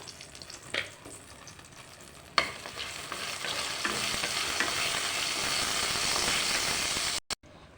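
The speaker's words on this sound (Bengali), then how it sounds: "গোটা জিরে আর শুকনো লঙ্কা ফোড়ন দিয়ে দেবো।" Whole cumin seeds and dried red chillies hit hot oil and set off a bright, hissing sizzle that builds and holds steady for several seconds, with a few utensil knocks before it and a sudden cutoff near the end.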